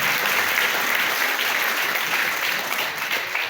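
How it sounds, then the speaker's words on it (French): Crowd at a ceremony gives sustained applause for the event's sponsor, an even, continuous patter of many hands clapping that holds at steady loudness throughout. "Aussi applaudir le parrain."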